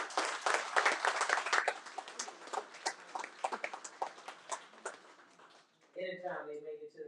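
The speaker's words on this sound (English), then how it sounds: "You all give these student athletes a round of applause." A crowd applauds student athletes with a burst of clapping that thins out into scattered claps, followed by a voice speaking at the end.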